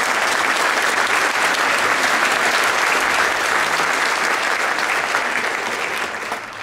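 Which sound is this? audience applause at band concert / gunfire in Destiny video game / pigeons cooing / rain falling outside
audience applause at band concert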